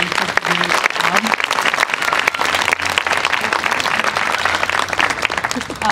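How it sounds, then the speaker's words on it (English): A crowd at an outdoor evening dance performance by an elementary school and dance collective gives a loud, sustained round of applause, dense clapping with occasional cheers and voices mixed in. "let's give everybody one more round of applause for such a great job"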